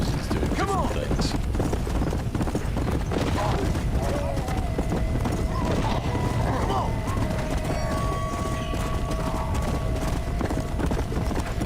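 Horse hooves clip-clop in the Red Dead Redemption Undead Nightmare video game, a steady rhythmic trot under constant game ambience and a talking voice.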